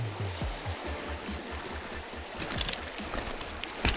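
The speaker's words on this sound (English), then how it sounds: "Yep, crazy fast water too." Fast-flowing stream water rushes as a steady broadband wash, with low rhythmic thumps and small splashes mixed in close by during fishing in a swampy creek.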